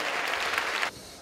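Thick crowd applause at a children's play-song grand prix award ceremony, steady for under a second before cutting off abruptly into near silence.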